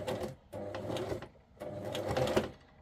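Sewing machine stitching through a thick journal cover, running in two loud, steady bursts of rapid mechanical chatter separated by a short pause, close up with no talk.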